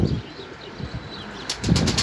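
A Kirkukli pigeon beats its wings in flight, the flaps coming as faint soft whooshes and then a quick, louder flurry at the end.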